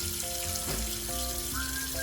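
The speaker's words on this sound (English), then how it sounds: "So what I do is I just rinse them off." Water from a kitchen sink tap runs over raw chicken breasts, making a steady, close hiss of splashing water that continues alone through the whole clip.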